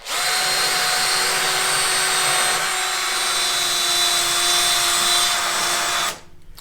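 A power grinder works steadily at a metal rear suspension part for a mid-engine Honda CR-V swap into a 1960s Mini, a loud continuous high whine with a steady pitch that cuts off abruptly near the end.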